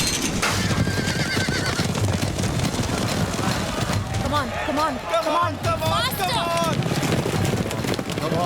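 Racehorses at a race, neighing and galloping amid a loud, busy crowd: several whinnies and continuous thudding hooves under constant cheering voices and shouting.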